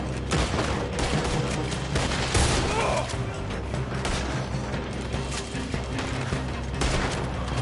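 A Red Dead Redemption 2 shootout during a robbery crackles with dense, rapid gunfire, many overlapping shots from near and far, sustained throughout with little pause.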